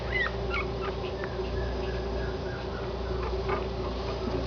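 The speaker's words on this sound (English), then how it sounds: "Those are the puppies." Parti Yorkie puppies whimper and squeak in short high cries scattered over a constant low hum, close and fairly faint, with no talking.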